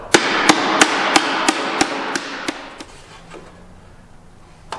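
Hammering on a metal car body panel during restoration: about nine evenly spaced, sharp strikes with ringing tails, close and loud, growing fainter toward the end.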